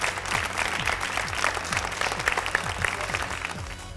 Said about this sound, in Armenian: ծափահարությունները մեր երրորդ մասնակցին